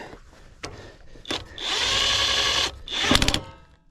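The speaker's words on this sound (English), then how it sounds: "When you put them on by hand, you know that they're straight, and then you can hit them with the gun." A pneumatic impact gun rattles in short bursts and one sustained run as it tightens lug nuts on a trailer wheel during a tire change, loud and close, with brief mechanical clunks between bursts.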